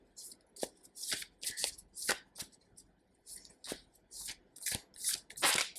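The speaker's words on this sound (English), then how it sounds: "You want me to shuffle this deck?" A deck of tarot cards being shuffled up close, with rapid bursts of riffling and snapping card flicks in an uneven rhythm, repeated about a dozen times.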